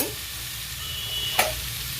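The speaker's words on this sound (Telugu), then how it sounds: "మొత్తం వేసి బాగా మిక్స్ చేసుకోవాలి." Fish pieces and other ingredients being stirred together in a hot pan, a steady sizzle with a scraping stir and one brief clack of the spoon against the pan, no voices.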